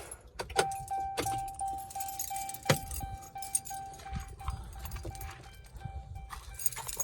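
Keys clink and rattle in the ignition of a 2010 Ram 2500 Megacab Cummins truck as it is switched off, with sharp clicks and a steady chime tone in a quiet cab.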